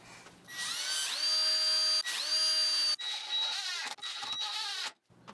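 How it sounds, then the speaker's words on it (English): A power drill bores axle holes through wood for a step stool: three loud, close bursts of high whining motor pitch, each spinning up sharply, the last one rougher and choppier as the bit chews through the wood before cutting off. "I drilled out the holes for the axle."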